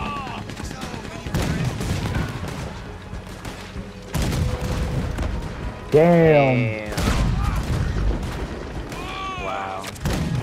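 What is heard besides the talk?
cannon fire in a video game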